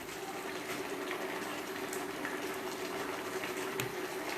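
Wild mushroom and Cornish blue cheese risotto bubbling in a pan, a steady close simmering hiss with soft pops and gurgles throughout, no talking.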